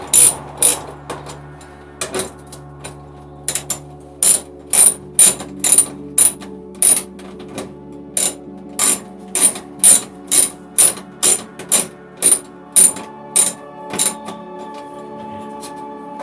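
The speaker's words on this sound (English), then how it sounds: "Only be an open-ended spanner, and you can only move it like a flat at a time." An open-ended spanner working bolts one flat at a time gives loud, close metallic clicks in a steady run of about twenty short, evenly spaced bursts, with a faint low hum between them.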